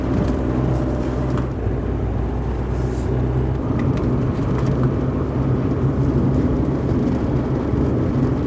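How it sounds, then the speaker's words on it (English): Strong wind buffeting a parked car on an exposed hilltop, a steady loud low roar and rumble with gusty surges throughout, no voices. "Now this is windy, it's blowing the car about."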